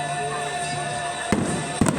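Fireworks exploding over a beach during a show, two sharp booms about half a second apart standing out over a steady hum of crowd and background noise.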